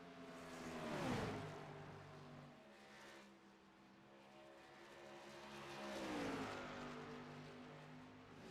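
Race cars in an iRacing ARCA Series video game race run nose to tail, engines droning in a steady, fairly quiet background roar that swells twice as cars sweep past.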